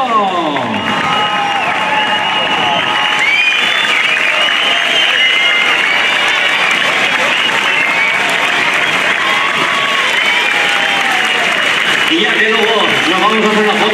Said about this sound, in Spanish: Vamos a recibir en la plaza con un fuerte aplauso a los artistas del gremio.